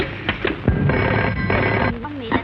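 An old telephone rings in a Hindi film scene, its bell tones sounding over background music and some voices, continuing through most of the short stretch.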